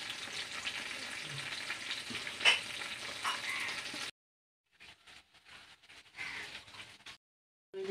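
Pointed gourd (potol) frying in a pan gives a steady, close hiss for about four seconds, then gives way to quieter, broken crackles and brief gaps.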